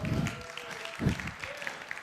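An audience at a leadership talk applauds, a short spell of steady clapping from a crowd with a voice speaking over it.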